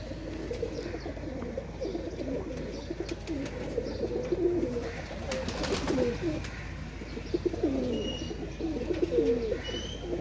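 Pigeons kept by a hobby breeder for flying competition coo continuously at a moderate distance, a steady low warbling murmur with occasional chirps over a busy background.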